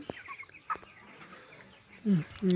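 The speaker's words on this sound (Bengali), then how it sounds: "আজকে মুরগির বয়স 23 দিন" Broiler chickens, 23 days old, cluck on a poultry farm with a few quiet calls followed by two louder clucks close by near the end.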